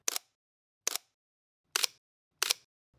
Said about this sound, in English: even the mechanical shutter sounds different on the Mark V.